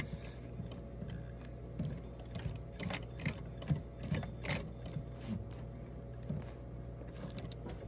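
A sewing machine stitches automotive upholstery for a 2012 Nissan Rogue, a quiet steady mechanical whir with faint ticking and clacking close by, no talking.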